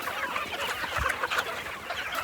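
Hens clucking in a busy, scratchy jumble of sound, with soft overlapping clucks and rustling close by.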